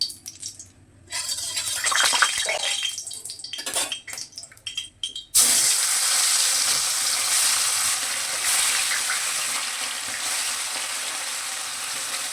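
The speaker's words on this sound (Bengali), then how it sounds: "সাদা তেল দিয়ে করবো, ভাজবো মাছটা।" Bata fish, coated in salt and turmeric, frying in white vegetable oil in a pan for a Bengali fish curry: clattering of utensils and short bursts of sizzle give way to a loud, steady, close hiss of frying that holds to the end, with no talking.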